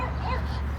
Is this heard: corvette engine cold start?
no